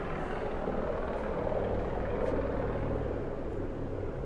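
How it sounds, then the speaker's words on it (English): A helicopter passes overhead, its rotor a continuous, loud, rumbling low drone with steady chop that fills the whole stretch without talk. "There's a helicopter up over there."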